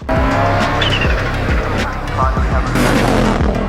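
An Audi Quattro rally car driven by a driver roars hard, its engine revving in bursts while tires squeal and skid, loud and close throughout with speech underneath.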